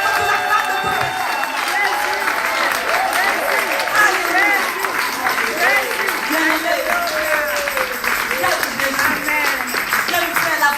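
A church congregation claps and cheers in praise of Jesus in a loud, sustained wave of applause, with many voices shouting and singing over it.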